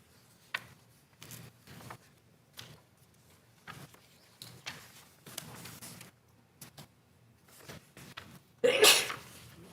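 A single sharp sneeze bursts out loudly near the end, following several seconds of quiet rustling and small handling noises in a room during a county government meeting.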